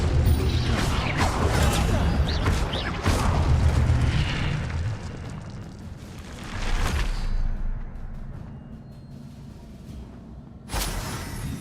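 An Incendio fire spell cast in Hogwarts Legacy, heard as a rumbling whoosh with crackling bursts and booms, fading and then swelling again in short surges, with sparse mechanical creaks.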